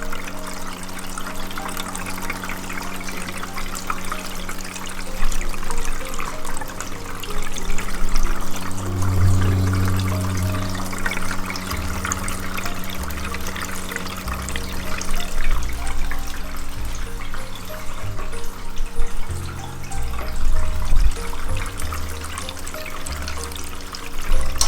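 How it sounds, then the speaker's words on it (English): Gardyn indoor garden system pumping water to its plants, a continuous close trickling and gurgling flow with a low pump hum that swells and shifts throughout, with no talking. "I don't know if you can hear it, but it's watering."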